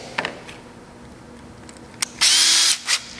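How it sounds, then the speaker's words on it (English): A power drill spins up loudly and bores a hole through a MINI door handle, with a sustained burst of drilling after a few short clicks and taps. "basically you're just going to drill it like that"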